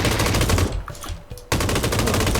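Rapid automatic gunfire in PUBG Battlegrounds, loud continuous bursts close by with a short gap of quieter sound before the firing resumes.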